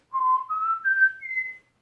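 A person whistles four sustained notes in a row, each one stepping higher as the tongue rises, forming a clear ascending sequence that is close and alone with no talking.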